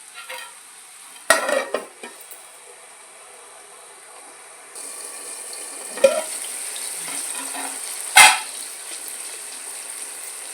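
Egg tomato curry simmers in a covered pan with a soft, steady hiss, broken by a few sharp clinks of utensil or lid against the pan.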